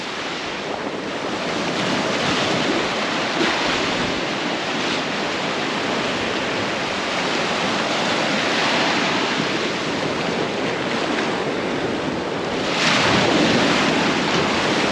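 Rough ocean surf crashes steadily onto a Kauai beach in Hawaii, a loud continuous wash of breaking waves with wind buffeting the microphone and a surge near the end.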